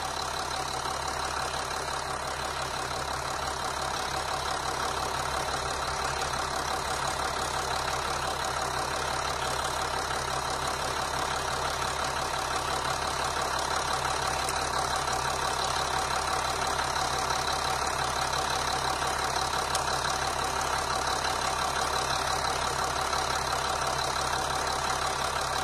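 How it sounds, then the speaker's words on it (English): A car engine idles steadily throughout during EGR valve testing, a continuous even mechanical hum with no roughness or stalling, close and constant. "engine doesn't seem to go rough or try to stall"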